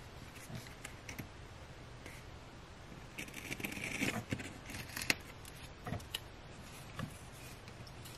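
Scissors snipping through excess washi tape on a Happy Planner page, a few quiet scattered cuts and small paper scrapes at close range with no talking.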